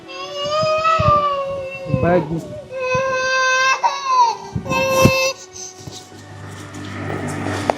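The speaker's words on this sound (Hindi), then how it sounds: "बालक रोने की आवाज" A baby cries loudly and up close in a Haryanvi comedy drama scene, with repeated wailing bursts separated by short gasps and a few spoken words mixed in.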